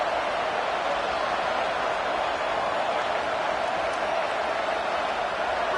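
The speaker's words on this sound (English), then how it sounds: "this home crowd getting involved right from the start" Home crowd noise at a football game, a steady, dense roar of many voices that holds at an even moderate level throughout with no distinct peaks.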